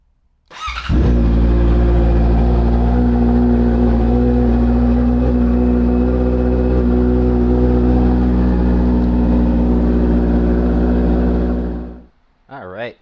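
A 2023 Honda CB650R motorcycle engine starts and idles while warming up, a loud steady close-up hum with a smooth low drone for about eleven seconds before cutting off.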